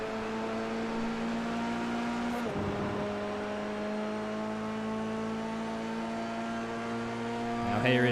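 A Formula 3 race car in a sim racing game holds a steady high-revving engine drone, then the pitch drops sharply mid-run as the driver lifts or shifts and climbs again, with a brief rise in revs at the end.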